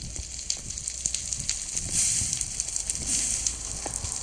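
Fire burning in Minecraft, a steady crackling hiss with scattered sharp pops and snaps, fairly close and continuous, no talking over it.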